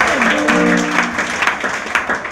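Church congregation clapping their hands in praise during a worship service, a short burst of clapping blended with voices and a sustained tonal sound underneath.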